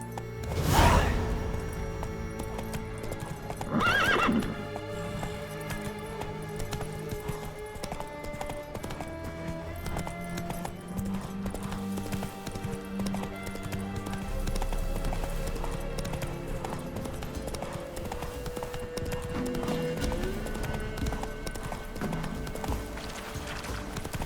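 Horse hooves clip-clop steadily at a gallop in The Witcher 3, with a sharp neigh near the start and another around four seconds, over continuous game music and ambience.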